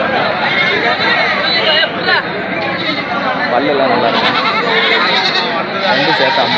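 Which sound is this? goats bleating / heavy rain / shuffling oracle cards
goats bleating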